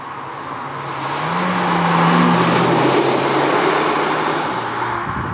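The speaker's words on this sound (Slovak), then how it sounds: "teraz režim šport, kickdown, teraz ešte rýchlejšie, ešte skôr" A Kia ProCeed GT in sport mode with kickdown accelerates hard, its engine note rising steadily and loud from inside the cabin over several seconds, with a dual-clutch gearbox and no talk.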